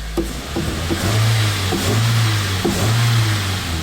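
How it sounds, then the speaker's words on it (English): A cold Toyota Matrix engine with a suspected stuck idle control valve revs up in several short throttle blips over a steady idle, close and loud with no talking. "I will step on the throttle a little bit."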